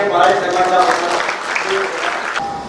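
Audience at a local news event applauding in honour of Varali saheb, a dense patter of clapping heard under a voice speaking over it.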